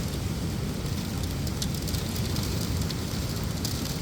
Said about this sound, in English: One hell of a storm in the desert.